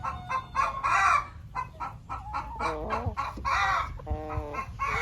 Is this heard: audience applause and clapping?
no